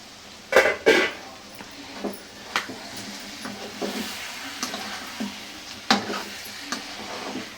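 Liver frying in bubbling oil in a pan, a soft steady crackle with several sharper pops and stirring scrapes, loudest near the start then settling into a low sizzle.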